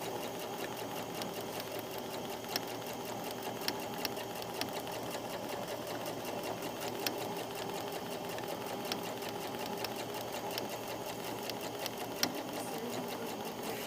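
A sewing machine runs steadily while stitching the back darts of a skirt, giving a continuous close mechanical whir with faint regular clicks and occasional small knocks, and no one speaks.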